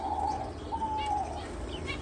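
Caged finches in a bird room chirp and tweet in short, soft calls against a low background hum, fairly faint and with no speech.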